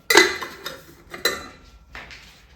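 A few metallic clanks of a vessel being set down and placed over another, three sharp knocks with short ringing tails.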